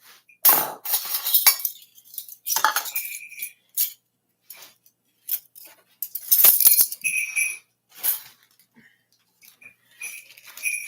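Small metal spoons clinking against glass and dishes while baking a blueberry cinnamon swirl, scattered bright chinks and clatters in short bursts separated by quiet gaps, close by.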